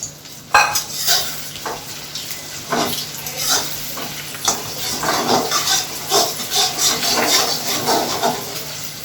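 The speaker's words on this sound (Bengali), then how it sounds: "মাছটাই দিয়ে দিলাম তেলের মধ্যে, ডিমটা গায়ে মাখা মাখা হবে।" Egg-coated fish frying in hot oil in a home kitchen, with a soft sizzle under frequent clinks and scrapes of a utensil against the pan, close and fairly loud.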